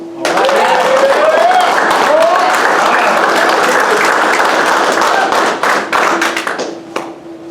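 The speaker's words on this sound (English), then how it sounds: "Now let's go ahead and give a round of applause to our newest Dirtboyz." An audience at an Air Force Dirt Boyz class graduation claps loudly and continuously for the new graduates, dense close applause with a few whoops before it tapers off.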